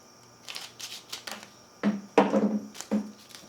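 Harbor Freight large-jaw cutters snip through a folded piece of material, giving several sharp, close crunching clicks spaced irregularly, with louder cuts toward the end and no talking.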